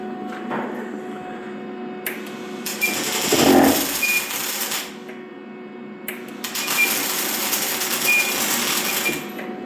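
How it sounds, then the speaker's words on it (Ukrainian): A wire-feed welding machine works on a metal part in bursts of crackling arc noise, a few seconds each, separated by brief quieter gaps, loud and close. "як тільки йде контакт дроту з деталлю, починається процес зварювання"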